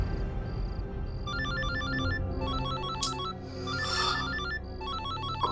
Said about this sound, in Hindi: रात को 3:30 बजे भी अनजान नंबर से फोन।